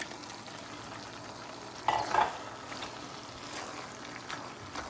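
Boiled macaroni goes into a pan with vegetables for chicken macaroni and is stir-fried, giving a low, steady sizzle with a couple of brief stirring clatters near the middle. There is no talking.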